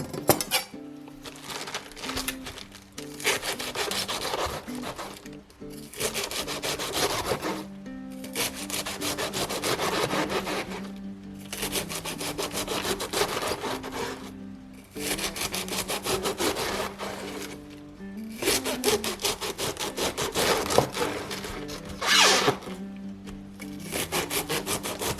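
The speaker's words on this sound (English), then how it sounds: "I'm gonna take this great big head of Napa cabbage and I'm gonna start cutting it into very thin slices" A knife slices a big head of Napa cabbage thinly on a wooden cutting board for homemade kimchi: loud, close, rapid rhythmic strokes in long runs separated by brief pauses, with no speech.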